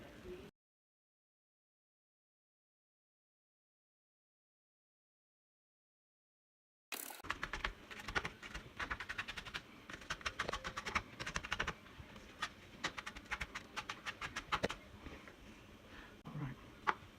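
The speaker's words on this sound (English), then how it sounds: "the first thing we're going to do is dice this onion" A knife dices an onion on a cutting board for a stew, giving a rapid, irregular patter of light chopping taps that starts after a long silence and keeps going, close but fairly quiet.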